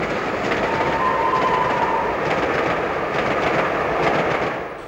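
An LNER A3 steam locomotive, 60054 Prince of Wales, hauls a civil engineer's train, a loud, close, steady rolling roar with rattling wheel and carriage noise that fades slightly at the end.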